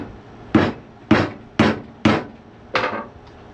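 Hammer striking a metal punch into a wood crotch blank to mark its center, five sharp, ringing taps at an even, unhurried pace, close and loud with brief decays between.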